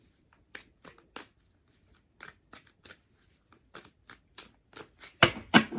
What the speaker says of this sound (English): Let me give them one more good shuffle for you.